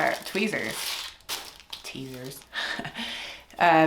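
Tweezers are unwrapped from their plastic packaging, with crinkling and tearing in short bursts between moments of quiet, and a person talks over parts of it.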